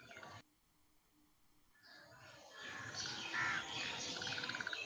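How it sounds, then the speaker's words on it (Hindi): A pet bird nearby squawks and chirps indoors beside a lesson, with harsh repeated calls building up and continuing loudly after a quieter stretch. "भाई किसी का चिड़िया बोल रही है बगल में"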